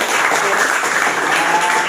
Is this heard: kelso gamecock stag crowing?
no